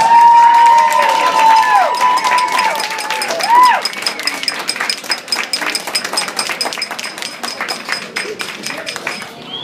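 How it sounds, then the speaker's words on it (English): A crowd at an award ceremony claps and cheers, with whoops and shouts over steady applause that tapers into scattered clapping; a tone and a voice sound near the start. "a big round of applause"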